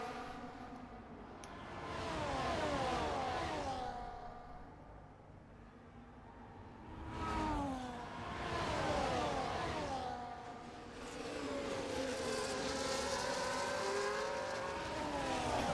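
Ferrari race cars in a Monza sim race scream past in waves, engines rising and falling through gear shifts as they swap positions, loud and sustained with several cars overlapping.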